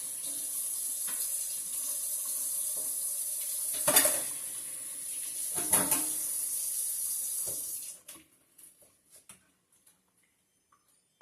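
Vegetables rinsed under a running kitchen tap, a steady close hiss of water with a few louder splashes as they are handled, then the water stops, leaving faint clicks and knocks.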